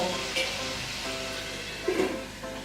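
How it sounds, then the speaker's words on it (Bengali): Masala paste with yogurt cooks under a lid in a pan for soya korma, a steady soft sizzle and crackle throughout with a couple of small pops, fairly quiet. "পাঁচ মিনিটের জন্য ঢাকা দিয়ে মশলাটা কষে নেব।"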